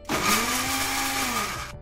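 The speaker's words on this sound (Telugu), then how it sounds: "వీటిని మిక్సీలో కచ్చా పచ్చిగా గ్రైండ్ చేసుకుందాం." A kitchen mixer grinder coarsely grinds a cup of sweet corn kernels for vadas, giving a loud, steady motor whine that holds for almost two seconds and then stops abruptly.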